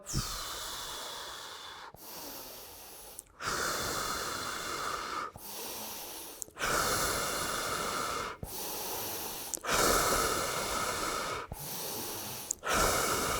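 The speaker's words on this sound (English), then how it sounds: "I want you to listen to the inhale" Deep, slow breathing during a psoas exercise, long loud airy inhales and exhales alternating in a steady rhythm, close to the microphone with no talk.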